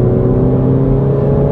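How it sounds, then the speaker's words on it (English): A Mini Cooper S D with a 2-litre turbo diesel engine accelerates hard under full throttle, a loud, steady droning engine and road roar heard from inside the car. "That 2-litre turbo diesel engine does pin you into your seat."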